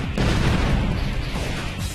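Explosions in the video game Sonic Heroes, heard as a dense rumbling barrage of low booms and crashes that overlap continuously at full strength for about two seconds, with no talking over them.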